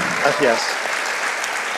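Audience at a film festival masterclass applauds with steady, full clapping, while a voice speaks briefly near the start.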